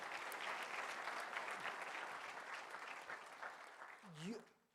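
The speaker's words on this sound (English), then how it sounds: "Give a big round of applause for Director, sir" Audience applause for a training academy director at an inspirational session, a dense, steady roomful of clapping that carries on throughout before thinning out, with a voice rising briefly near the end.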